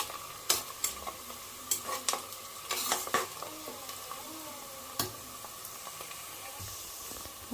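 Onions sautéing with salt in a pan for chicken biryani, a soft background sizzle broken by repeated sharp clinks and scrapes of a spatula stirring against the pan.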